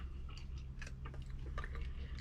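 Close-up chewing of homemade apple and kiwi fruit leather, soft sticky mastication with small crunches from kiwi pips, faint and with no talking.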